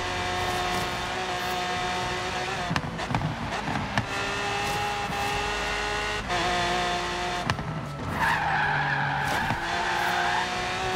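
A car in Forza Horizon 3 roars at full throttle in a steady, loud engine drone, with brief tire squeals and skidding bursts breaking in along the way.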